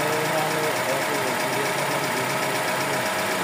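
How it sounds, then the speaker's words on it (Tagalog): A Toyota Corolla GLI car engine (4A-FE) with an ECU fault idles steadily up close with an uneven, knocking rumble and constant mechanical vibration throughout. "Hindi yan magandang tunog ng makina ng GLI"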